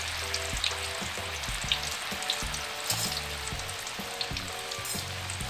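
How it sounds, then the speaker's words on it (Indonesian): Sliced green tomatoes fry in hot oil, a steady close sizzle with crackling pops and faint tonal hum underneath, continuous with no speech. "Kita goreng tomat hijau yang sudah diiris-iris."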